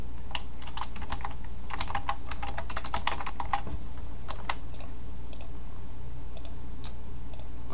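Rapid, close clicking of a computer keyboard as someone types in bursts, clustered keystrokes early on, then scattered single taps over a steady background hum.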